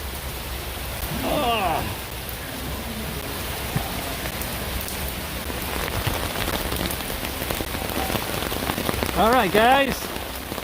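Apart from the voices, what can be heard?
heavy rain pouring on an umbrella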